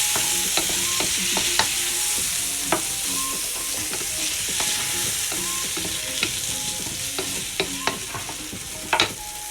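Cauliflower frying in a pan over lowered heat for a vegetable curry, a steady close sizzle with scattered clinks and scrapes of stirring throughout, no talking.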